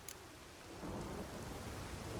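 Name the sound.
thunderstorm in The Witcher 3 video game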